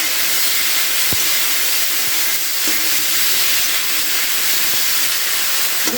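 Broccoli florets tossed into a pan with cumin seeds in hot oil, a loud, steady close sizzle and hiss with a few sharp clicks of a spatula stirring, no voices.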